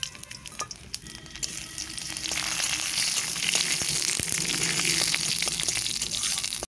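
Dried red chilli, bay leaf and panch phoron dropped into hot oil, breaking into a loud, steady close sizzle that swells after a couple of seconds and crackles on without pause.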